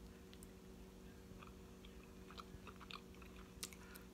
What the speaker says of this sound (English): we're going to taste the little donut hole piece